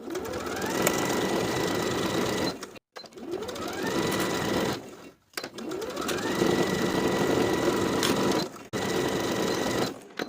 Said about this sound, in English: Sew the waistband to the top of the shorts with a 1/2 inch seam allowance all the way around